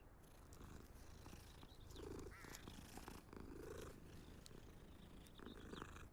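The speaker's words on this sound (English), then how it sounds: "It was less of a cat meow than before." A cat in the video game Hogwarts Legacy purrs as it is petted, a soft continuous rumble with gentle rhythmic swells, heard alone and close.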